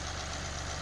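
A John Deere 2038R compact tractor's engine runs at a steady, even hum, close and constant through a very brief moment, with no voices.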